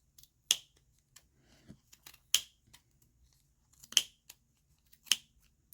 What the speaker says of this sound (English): so we're just going to snip that off